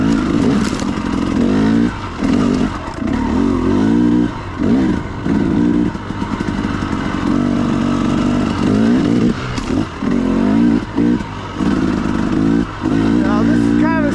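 A KTM 300XC-W carbureted dirt bike fitted with an RK Tek head revs and idles nearby with steady engine drone, swelling and dipping with the throttle under a voice.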